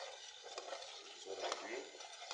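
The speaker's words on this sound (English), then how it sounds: "I have to mix it, stir it for some moments so that it will mix properly" A spoon scrapes and stirs through sweet potatoes and moringa leaves in a cooking pot. The soft, steady scraping carries on under a faint background hiss.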